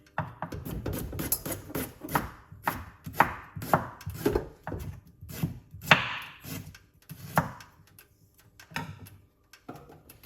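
Ginger being chopped for a drink with lime, apple and cloves, a knife striking a board in a quick, irregular series of sharp knocks, close and clear with no talking.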